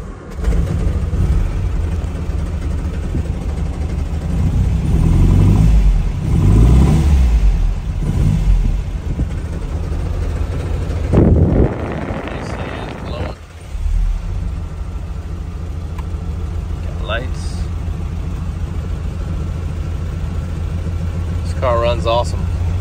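A 1960 MG MGA car engine runs with a steady, rumbling idle and a few blips of revving before settling back down, and a person talks nearby over the engine.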